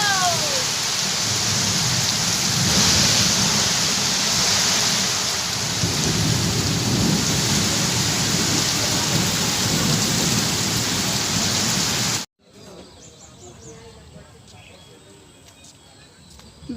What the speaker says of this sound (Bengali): কি পরিমাণে বৃষ্টি হচ্ছে